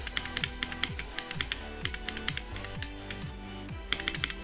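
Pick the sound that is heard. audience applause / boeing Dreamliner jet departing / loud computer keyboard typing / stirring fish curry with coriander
loud computer keyboard typing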